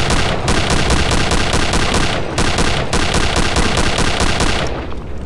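Rapid gunfire from the Venom in Return to Castle Wolfenstein, a loud, dense stream of shots with brief pauses between bursts, close and alone before stopping near the end.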